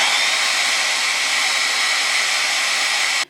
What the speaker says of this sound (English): And then blow dry some more.